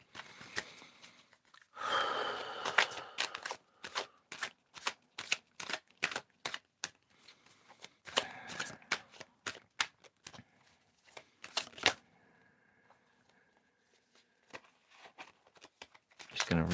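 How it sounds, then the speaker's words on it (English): Oracle cards being shuffled by hand, long runs of rapid crisp riffling clicks close by, broken by short pauses and one quieter stretch, with someone speaking softly in places. "I'm going to reshuffle these cards here."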